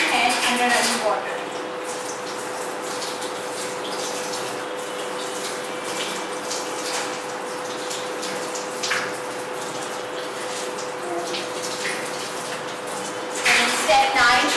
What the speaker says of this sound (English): Step 8 is rinse hand under running water.